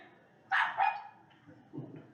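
A dog barks during a council meeting, giving two quick, sharp barks and then a lower, softer woof, faint and slightly distant.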